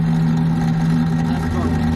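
The flue motor on an AAON rooftop HVAC unit runs as the heat comes on, giving a loud, close, steady hum with strong low tones, while a voice talks over it.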